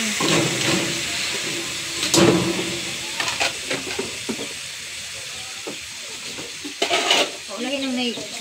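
Ground meat for lasagna sizzles loudly in a hot pan, with bursts of stirring and scraping over a steady frying hiss; a voice speaks briefly near the end.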